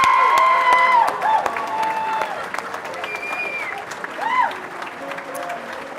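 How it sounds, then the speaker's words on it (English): Sustained audience applause at a Central Lakes College commencement, broad and continuous with scattered cheers and whistles rising briefly, voices mixed in throughout. "A big round of applause"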